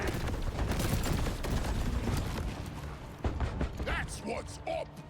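Mechanical clicks and clacks of a weapon being reloaded in the video game Deep Rock Galactic Rogue Core, set within a busy, continuous mix of gunfire and game noise.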